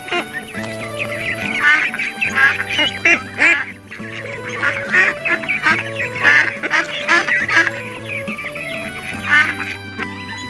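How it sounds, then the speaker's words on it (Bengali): Cartoon ducks play on water with repeated loud quacks in quick bursts over a steady musical backing, no words spoken. "ওই দেখ, জলে কতগুলো হাঁস খেলছে"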